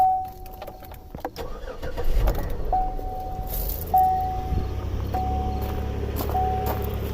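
A 2006 Pontiac Montana SV6 with a 3.5 l engine cranks briefly and catches, then settles into a steady close idle, while a chime beeps repeatedly and an electronic suspension fault is noted.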